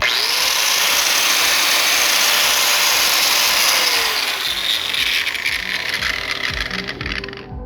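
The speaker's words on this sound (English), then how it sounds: "it looks like I got a cutting wheel on it because I was cutting something. But it's also noisy." A DeWalt angle grinder fitted with a cutting wheel whines loudly at full speed close by, holding a steady high pitch before spinning down and fading out toward the end.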